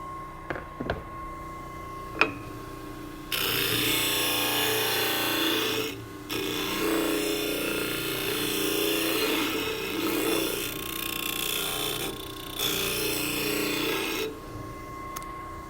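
A sanding machine fitted with rough sandpaper grinds across wood in long, loud, continuous rasping passes, with short pauses between them and a few sharp clicks before it starts.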